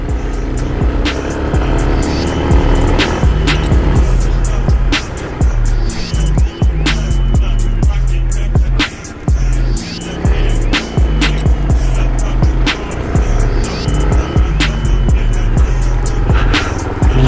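An old-school Honda XR250 enduro motorcycle climbs a hill loud and close, its engine droning continuously with brief dips as it shifts into second and then third gear.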